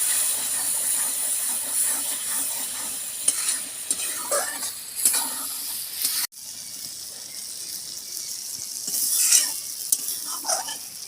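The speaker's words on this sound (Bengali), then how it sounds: "লঙ্কা হলুদ দিয়ে আমি অল্প কষিয়ে নিয়েছি" Chili and turmeric frying in a pan for a chicken dish, with a constant close sizzle and hiss broken by spatula scrapes and stirring clatter, and a short cut partway through.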